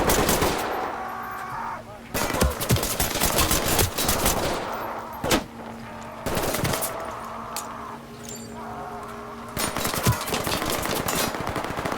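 Rapid automatic gunfire in the tactical shooter game Ready or Not, dense close bursts of shots cutting in and out over a steady background hum, several separate volleys across the stretch.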